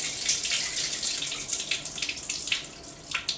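Running water splashes as rice is rinsed in a vessel in a home kitchen, a continuous close hiss of pouring and sloshing with no talk.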